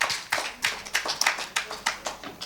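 Scattered audience applause at a public event, a handful of sharp, separate claps in a loose, uneven rhythm, fairly close and with no voices.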